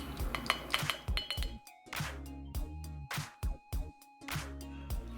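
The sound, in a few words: scoop clinking glass adding Neocell Super Collagen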